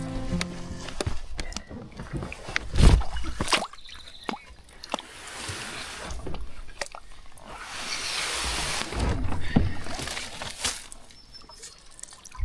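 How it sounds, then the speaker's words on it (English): Soft water sounds from canoe paddle strokes on a river in Point Grondine Park: gentle plops, drips and trickles, quiet and close, with light splashes recurring every few seconds. "Lovely little river paddle along here."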